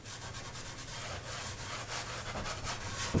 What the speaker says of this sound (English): you just take your shavings and you just rub them pretty hard into the wood.